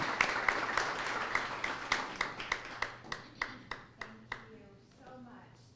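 Applause from an audience welcoming the first speaker at a mental health town hall, sharp claps rising then thinning out over several seconds, with a few scattered final claps and faint voices near the end.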